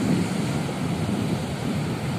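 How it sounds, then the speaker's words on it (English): High-tide ocean waves wash over rocks near a backyard shore, a steady, continuous roar of surf with wind rumbling across the microphone. "these waves are even covering up all those rocks"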